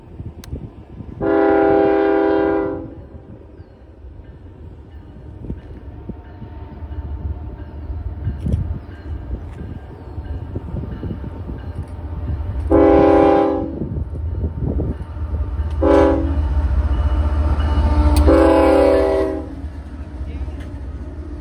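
A northbound train passes near the Canadian border, sounding several loud multi-tone horn blasts spaced over the clip above a low, continuous rumble of rolling rail cars.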